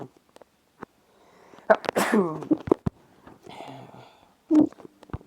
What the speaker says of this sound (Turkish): pardon pardon hapşırdım.